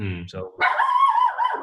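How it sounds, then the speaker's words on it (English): A pet dog barks in a home office, a couple of short yaps near the mic, with a voice speaking briefly over the start. "that's my dog."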